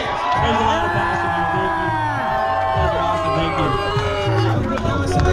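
Crowd at the FuelFest car show in Salt Lake City cheering and whooping loudly, a dense sustained roar with shouts and bellows rising throughout, close and continuous with babble mixed in.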